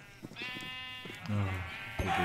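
Sheep bleating in the video game Minecraft, several short loud bleats in quick succession with a longer drawn-out one near the end.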